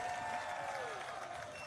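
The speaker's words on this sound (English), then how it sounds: "I think they deserve a big round of applause" Audience applause at an athletics meet prize distribution ceremony held by IndianOil in Guwahati, a brief burst of crowd clapping from a hall that fades slightly over under two seconds.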